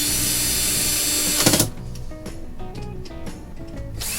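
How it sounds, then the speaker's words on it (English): Screws being tightened back into the side of a device with a power driver, a brief loud whir that stops, followed by quieter small clicks and taps of handling nearby. "all you're going to do is you're going to tighten those bolts or the screws back up on the side here"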